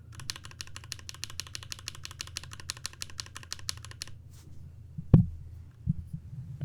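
Typing on a Boba U4T keyboard fitted with linear Tangerine switches, a fast steady run of soft clacks for about four seconds, then a few isolated heavier key thumps over a faint hum.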